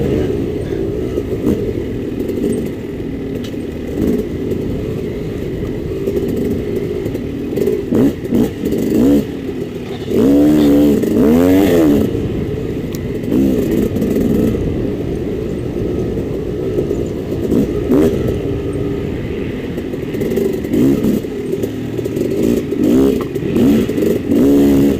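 Dirt bike ripping through a hare scramble race course, engine revving up and down continuously with sharp throttle bursts and clattering, close and loud.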